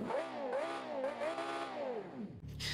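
A sports car engine with high torque and a CVT transmission revs in the BeamNG driving game, rising and falling in smooth, loud sweeps before cutting off abruptly near the end, with no talking.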